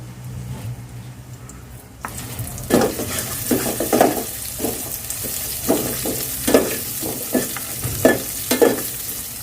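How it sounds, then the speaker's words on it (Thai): Shallots and garlic fry in a little oil for a Thai curry, a steady close sizzle that starts suddenly after a quiet moment, with repeated stirring scrapes of a utensil against the pan. "เริ่มแรกเราใส่น้ำมันไปนิดหน่อยนะคะ แล้วก็ใส่หอม หอมกับกระเทียมไปนะคะ"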